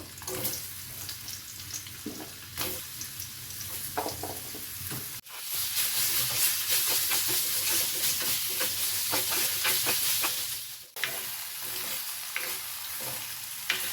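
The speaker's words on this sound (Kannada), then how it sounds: "ಇವಾಗ ಇದೇ ಎಣ್ಣೆಗೆ ಈ ಬಟಾಟೆಯನ್ನು ಹಾಕ್ತಿದ್ದೇನೆ" Potato pieces frying in hot oil in a home kitchen, a loud, continuous sizzle with crackling bursts and occasional stirring scrapes, briefly dropping out twice, no voices.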